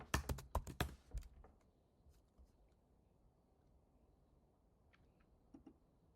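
A rapid burst of crisp computer keyboard keystrokes clatters close by at the start, then thins to a few scattered taps over quiet background.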